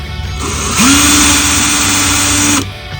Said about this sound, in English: We are going to drill all the way through it with a fairly thin drill bit